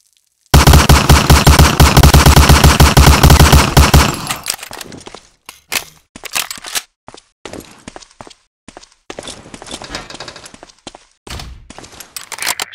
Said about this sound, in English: Shoot that target 20 times with the Thompson.